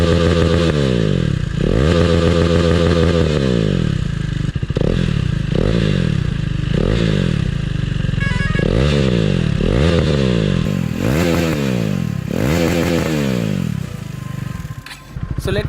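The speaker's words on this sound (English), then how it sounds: "So my friend is going to rev his bike for your pleasure." KTM RC 390 motorcycle with a loud aftermarket exhaust, revved nearby in a series of repeated sharp blips that climb and fall back to idle, roughly a dozen in a row.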